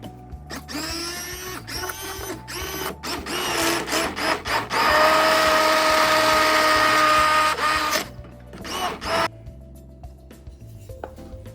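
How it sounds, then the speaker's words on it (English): A hand blender whirs in short bursts and then one longer sustained run through a pasta sauce in a kitchen, with a steady low hum underneath. "So now we're just going to give it a little bit of a blend, an emulsion blend."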